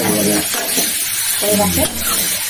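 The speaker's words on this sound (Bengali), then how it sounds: "এবারে একটু জল ঢেলে দিলাম, এই যে জল দিয়ে দিলাম" Water hits a hot pan of egg curry, sending up a loud, dense, continuous hiss and sizzle close by, with a voice talking underneath.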